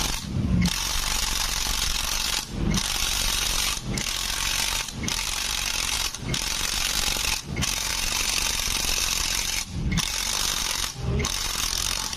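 Impact wrench with a 17 mm socket loosening bolts on a motorcycle engine during teardown, loud sustained hammering bursts broken by brief pauses, close up with no talking.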